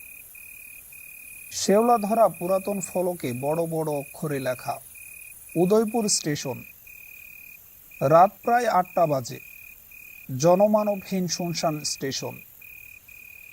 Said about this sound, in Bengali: ঝিঝি পোকার ডাক ছাড়া আর কোনো শব্দই কানে আসছে না